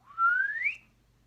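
A single rising whistle from one person, a clear tone gliding steadily upward for under a second, moderately loud and close, with no talking.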